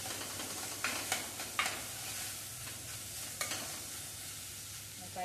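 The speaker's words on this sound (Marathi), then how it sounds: "मिक्स करून घ्या सगळं" A bread pakora mixture being stirred in a bowl, with soft scraping and several sharp taps of the spoon against the vessel at irregular intervals over a low steady background.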